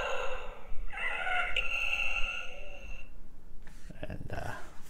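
Electronic toy pet gives a soft mechanical breathing sound, a steady tonal hum rising and falling in a slow rhythm, then a brief clicky rustle near the end, close and fairly quiet.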